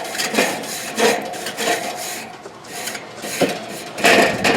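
A charcoal grill grate gets a quick scrubbing before ribs go on: a close series of rough, rasping back-and-forth strokes in an uneven rhythm, with no talking.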